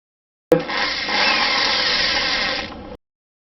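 A 6 mm tile drill bit spins up in a power drill and bores steadily for about two and a half seconds, a loud, even whine that cuts off abruptly, with no talk.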